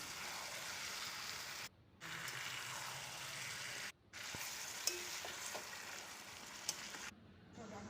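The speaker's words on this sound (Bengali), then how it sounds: "এখন আমি কেটে রাখা মাংসগুলো দিয়ে দেব। মাংস দিয়ে আমি ভালো করে কষাবো।" Chicken pieces frying in a spiced paste in a pan, a quiet continuous sizzle with a few brief pauses and light stirring, no one speaking.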